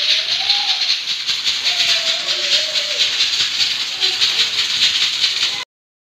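A loud, steady hiss of steam escaping a pressure cooker cooking camel paya fills the clip, with a faint wavering whistle underneath, cutting off abruptly at the end.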